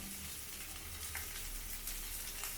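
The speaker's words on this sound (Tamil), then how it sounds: "முருங்கைக்காய் இது அப்படியே எண்ணெயில் பரட்டலாம்." Drumsticks (moringa pods) sauté in oil that sizzles and crackles steadily in a hot pan, with a few faint stirring scrapes and small pops over continuous frying hiss.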